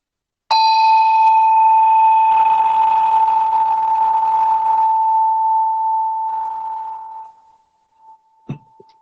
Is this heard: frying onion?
no